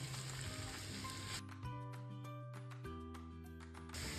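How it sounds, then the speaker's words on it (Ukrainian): Grated carrot and chopped onion fry in oil in a pan while being stirred, giving a steady soft sizzle throughout with faint scraping under a low, tonal background hum. "До неї додаємо натерту моркву та нарізану цибулю. Помішуючи, обсмажуємо до золотистого кольору."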